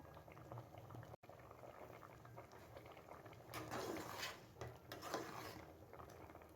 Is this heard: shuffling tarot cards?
no